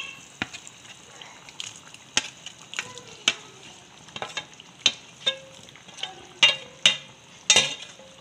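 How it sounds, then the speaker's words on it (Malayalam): Sliced mushrooms stirred and fried in a pan of Kerala-style mushroom curry gravy, with repeated scraping stir strokes and sharp clinks over a low steady sizzle, close and moderately loud with no talking. "നമുക്കിതിലേക്ക് മഷ്റൂം ആഡ് ചെയ്യാം."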